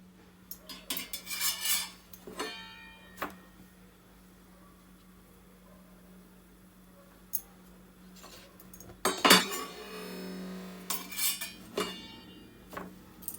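Cutlery and dishes clink and scrape while aloo matar paneer is plated in a home kitchen, in a few scattered bursts of clattering with quiet gaps between, plus one louder cluster of clinks near the middle.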